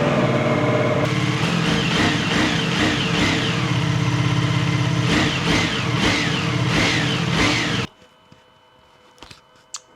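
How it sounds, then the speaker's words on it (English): A Ducati Multistrada V4 RS motorcycle revs loud and close in a cold garage, its exhaust rising and falling in several throttle blips over a steady idle before cutting off, leaving near silence with a few faint clicks. "I know you guys really want to know how the exhaust sounds"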